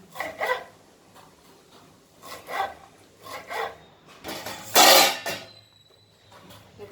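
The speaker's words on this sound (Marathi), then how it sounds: "कोथिंबीर एवढी घेतली हे बघा ही तर कापून घेऊ आपण" Fresh coriander leaves are cut at home while a chicken curry is being made. Short rasping bursts of the knife come about once a second, close and fairly loud, with a stronger, longer stroke near the end.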